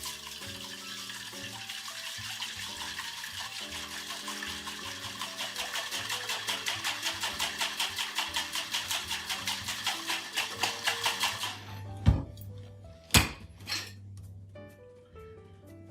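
A metal cocktail tin holding an egg flip mix is shaken hard in a fast, steady rhythm of sloshing rattles for about eleven seconds, then stops, followed by a couple of sharp tin knocks and clicks.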